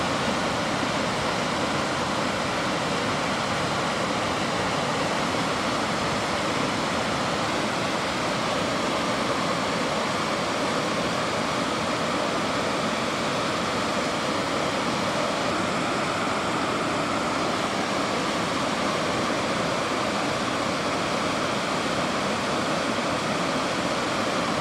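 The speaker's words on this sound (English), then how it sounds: "water once again cascaded over the rocks" River water cascading over rocks in Glen Orchy, a steady, dense rushing roar that holds unchanged throughout with no voices.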